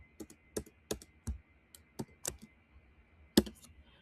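Scattered key presses on a computer keyboard, uneven clicks spread over several seconds with one heavier press near the end like the enter key, close and alone with no talking.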